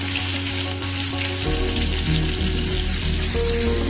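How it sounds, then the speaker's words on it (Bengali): Pieces of pomfret fish sizzle and crackle in hot oil in a home kitchen, a loud, steady, dense frying hiss that rises sharply partway through as more fish goes into the pan, with no talking. "দেখুন, আমার তেলটা গরম হয়ে গেছে। আমি এবারে মাছগুলো একে একে দিয়ে দেবো।"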